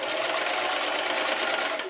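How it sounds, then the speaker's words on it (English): A sewing machine stitches across the top of a fabric face mask, a fast, even whirring rattle running steadily and close up with no talk. "we'll sew across the top, making sure that strap is out of the way"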